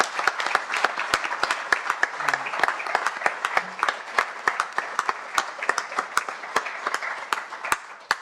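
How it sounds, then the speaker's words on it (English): An audience at a regional trauma symposium gives a round of applause, dense steady clapping from many hands in a hall that holds evenly for about eight seconds, moderately loud with sharp individual claps standing out. "I'll give them a round of applause"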